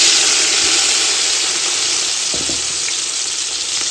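Onions sizzle steadily in a pan of curry over a village wood fire, a close, continuous frying hiss with a few faint knocks in the background.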